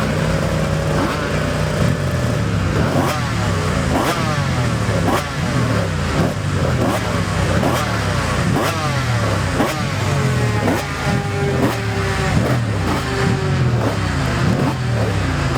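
Yamaha racing motorcycles at the Classic TT senior race blast past one after another, each loud engine howl sweeping down in pitch as it passes, with faint commentary under the repeated passes.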